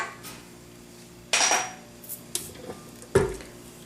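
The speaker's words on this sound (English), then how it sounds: "Give it a quick mix." Cake batter with vanilla and extracts being stirred in a bowl for an almond orange coconut cake, a few sharp clinks and scrapes of utensil against the bowl between quiet stretches.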